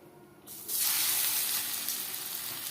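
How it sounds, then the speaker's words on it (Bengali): Fish hits hot refined oil for shallow frying, bursting into a loud, close sizzle after a quiet half-second that holds steady to the end, with no voices. "আমি শ্যালো ফ্রাই করছি আপনারা চাইলে ডিপ ফ্রাইও করতে পারেন"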